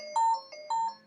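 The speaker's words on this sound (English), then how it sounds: "That was my alarm" An alarm ringtone sounds in two short repeating electronic pulses of bright tones, clear and fairly close in a quiet room.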